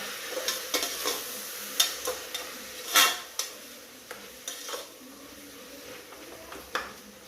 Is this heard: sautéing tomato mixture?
yes